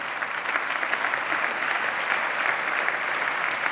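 An audience at an award event in Geneva applauds a speaker, a sustained, even burst of dense clapping from a full room, loud and continuous without a break.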